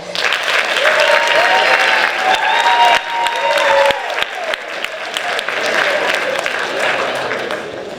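A hall of fame crowd at a Cheltenham induction gives a loud, steady round of applause lasting the whole stretch, with a voice speaking briefly over the dense clapping.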